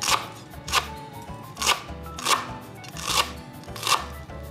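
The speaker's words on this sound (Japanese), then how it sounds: "これをですね、今日はみじん切りにしていきたいと思います。" A knife chops parsley finely on a cutting board for a Japanese parsley and cheese omelette, about six crisp, evenly spaced thuds and crunches close up, with no talking.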